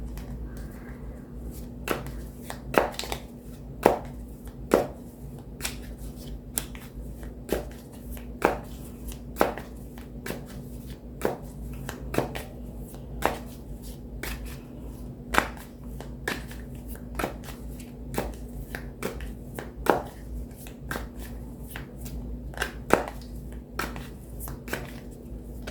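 A tarot deck is shuffled and cut in a quiet room, giving repeated crisp card slaps and riffles at an uneven pace over a steady low hum, with no voices.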